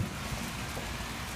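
Pouring rain on a Fourth of July evening in the desert, a steady dense hiss of heavy rainfall hitting surfaces, continuous and close.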